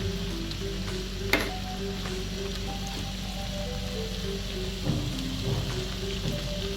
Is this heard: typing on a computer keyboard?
no